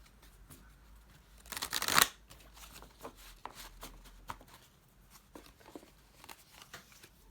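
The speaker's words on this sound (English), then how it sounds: "I have to shuffle in those from yesterday." Oracle cards shuffled by hand, a crisp riffling burst near the start followed by scattered softer card flicks and slides, close and fairly quiet, with no talking.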